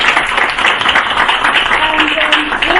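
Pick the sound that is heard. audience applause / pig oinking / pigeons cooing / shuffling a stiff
audience applause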